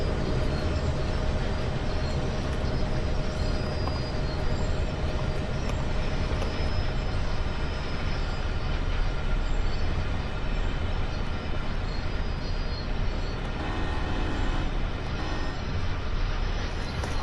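Freight train running on the Clinchfield Railroad Greenbriar Branch in Train Sim World 2: a steady, loud rumble of rolling cars and wheels on track, continuous throughout with a faint tonal hum, no talking.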